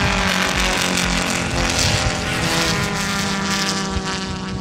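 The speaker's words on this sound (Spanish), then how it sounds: "El auto de Harpe se queda en tres cilindros, se escucha a lo lejos" A damaged race car engine running on only three cylinders at a touring car race, heard from a distance as a steady, rough droning hum that continues unbroken with no talking.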